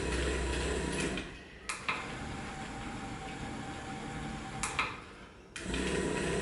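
Steady mechanical whirring and rumbling from a rock tumbler running at a faster speed, with a faint ticking texture and a couple of brief dips in level, no voices.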